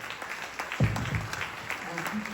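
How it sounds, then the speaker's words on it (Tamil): Audience clapping after a student drama at a Tamil school event, a thick wash of hands with a few sharper claps standing out and a voice briefly audible underneath. "மீண்டும் ஒரு முறை அவர்களுக்கு உங்களின் சிறப்பான கைதட்டுகள்"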